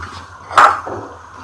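Chicken and carrots stirred in a pan, giving one sharp metallic scrape and clink of utensil on cookware midway through, over low steady kitchen background.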